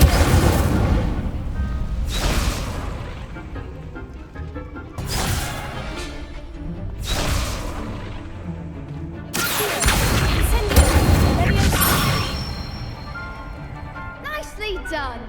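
Incendio fire spell cast repeatedly in Hogwarts Legacy, loud whooshing bursts of flame roughly every two seconds, with spoken voices over the bursts.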